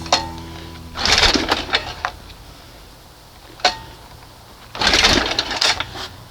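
Pull-start attempts on a 1971 20 HP Johnson outboard motor: two bursts of rasping, ratcheting cord pulls with a sharp click between them, close and fairly loud with no engine catching.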